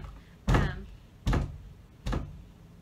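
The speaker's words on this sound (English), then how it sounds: "he's knocked the door down" Three heavy, evenly spaced thumps of someone banging on an indoor door, fairly close and loud, with a quiet room between blows.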